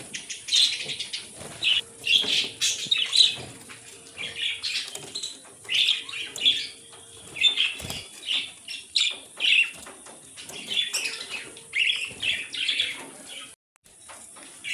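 Pet budgerigars in a breeding cage chirp and twitter continuously at close range, with bursts of bright chattering calls and occasional wing flutters over a steady background hum.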